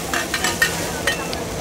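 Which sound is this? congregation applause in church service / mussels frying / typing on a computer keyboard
mussels frying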